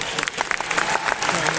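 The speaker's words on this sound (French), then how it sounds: "on l'applaudit bien" Audience applause at a cosplay contest final, greeting a contestant in a Navia costume from Genshin Impact at Paris Games Week 2025; brief dense clapping filling the hall while a voice speaks over it.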